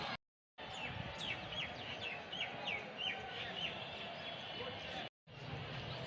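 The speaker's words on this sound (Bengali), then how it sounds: "খুব ভোরে পাখি একদম কিচিরমিচির করে, এখনও শব্দ করতেছে।" Birds chirp at a railway station in early morning, a series of short twittering calls over steady outdoor background noise, with brief gaps of silence.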